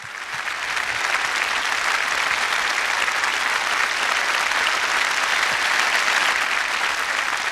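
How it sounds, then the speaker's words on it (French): A theatre audience at an Indian Ocean singing awards show breaks into loud, sustained applause for a young audience member called up on stage, a dense, even roar of clapping that holds steady for several seconds. "On l'applaudit très fort."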